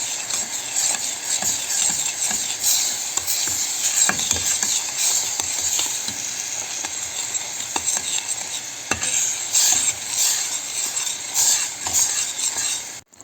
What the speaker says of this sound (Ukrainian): наш цукор і ця вся суміш починає плавитися. Добре його розмішуємо.